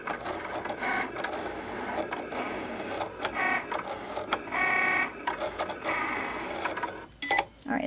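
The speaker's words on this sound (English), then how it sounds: "it's going to cut around it" A Cricut Explore cutting machine cuts around a printed magnet sheet, a steady whirring mechanical drone with repeated short carriage movements, close and continuous, ending in a few sharper clicks.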